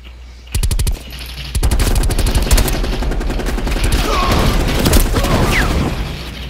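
Rapid bursts of machine gun fire from Call of Duty: Black Ops Cold War, loud and close, with a short volley followed by sustained heavy automatic fire mixed with booms and game noise.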